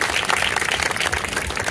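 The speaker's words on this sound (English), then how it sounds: "give yourselves a round of applause for being here" Audience at an East English Village community event applauding, a dense patter of many hands clapping together, steady and fairly close for a short burst.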